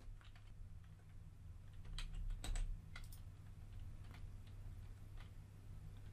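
Close, soft keystrokes on a computer keyboard as an email address is typed, a short run of irregular taps over a steady low electrical hum.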